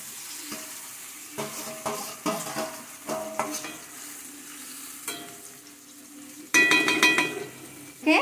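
Eggplant with its stalks and mixed vegetables cooking in a pan with added water for a paneer sabzi, giving steady bubbling and sizzling with repeated spoon stirs and scrapes, then a louder burst of clatter near the end.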